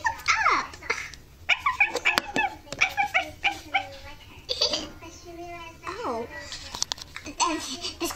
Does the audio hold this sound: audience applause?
no